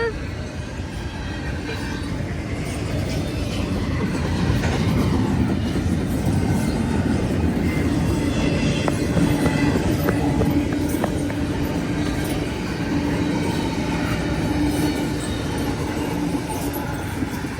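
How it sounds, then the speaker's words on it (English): A train rolls past at close range, with a dense, steady rumble and a continuous rhythmic clickety-clack from its wheels that builds after the first seconds and holds loud to the end. "Train's almost over."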